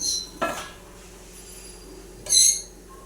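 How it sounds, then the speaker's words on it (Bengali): A lid goes onto a cooking pan of cabbage curry with fish head, producing two distinct metallic clanks with a short ringing tail, separated by a quiet stretch. "এবার এটাকে ঢাকা দিয়ে দেব"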